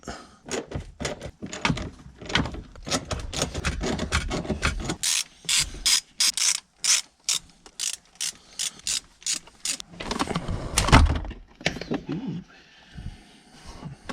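A hand ratchet clicks rapidly in steady bursts while bolts are backed out of a car's shifter assembly in a garage, with a brief pause and some metallic handling noise between runs.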